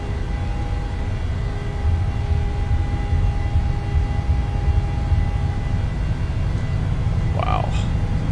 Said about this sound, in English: Takeoff power set and achieved airspeed alive.